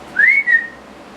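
A person whistling in imitation of a phone's whistle tone: one clear rising whistle followed by a shorter second note, close and loud, with no talk.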